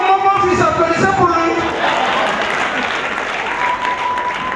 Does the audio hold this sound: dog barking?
no